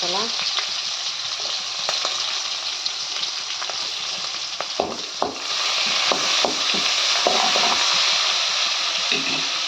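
Green chillies fry in a pan of hot oil with mustard seeds, giving a dense, steady crackling sizzle broken by close spatula scrapes and stirring knocks throughout.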